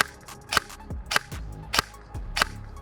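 A G&G FAR 5.56 folding airsoft gun firing on semi-auto, heard as four close, sharp mechanical clacks about half a second apart, each with a short thump, with no talk.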